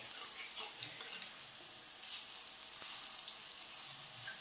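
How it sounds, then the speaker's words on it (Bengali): Food frying in hot oil is stirred and flipped in a pan, giving a steady close sizzle with soft scraping stirs throughout and no talk. "এটাকে এখানে আমি একটু নেড়ে চেড়ে দিই, একটু উল্টে পাল্টে দিই যাতে ভাজাটা ভালো হয়"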